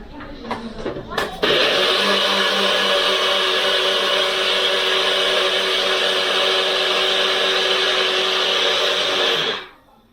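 A blender whirs steadily for about eight seconds, loud and close, blending spices into a homemade Jamaican jerk sauce outdoors, starting after a few clunks and cutting off abruptly at the end.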